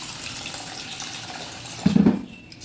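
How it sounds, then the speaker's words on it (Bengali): Rice being rinsed in a bowl of water at home, a soft continuous wash of running water followed by a short louder sloshing splash near the end, with no talk. "এবারে চালটাকে আমি সুন্দর করে ভালো করে ধুয়ে নেব।"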